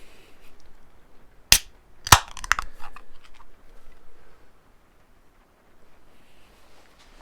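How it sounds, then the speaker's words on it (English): A sharp metallic snap of a freshly canned beer opening, then a quick crackle and a soft hiss fading into quiet. "Bit of a hiss, bit of smoke."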